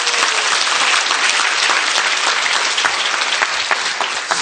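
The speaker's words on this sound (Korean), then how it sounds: "이때 박수 한번 쳐주셔야 돼요." Audience in a hall bursts into sustained, dense applause, loud and even throughout with scattered sharper claps, no voices on top.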